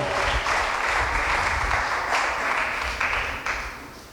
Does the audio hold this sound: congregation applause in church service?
yes